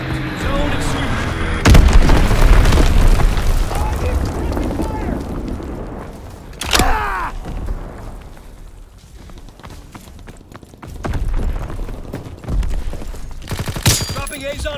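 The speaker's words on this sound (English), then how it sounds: "Dropping Azon bomb." In the World War II shooter Call of Duty: WWII, an Azon bomb drops amid loud bursts of explosions and rapid gunfire, with heavy rumbling blasts recurring across the battle and game voices heard at times.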